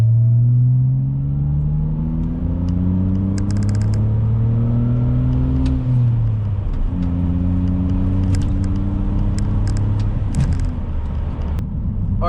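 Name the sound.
manual transmission car accelerating hard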